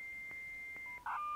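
Old telephone dial-up tones: a long steady tone with brief breaks, then a short burst of higher beeping tones at the end, clear and alone in a quiet background.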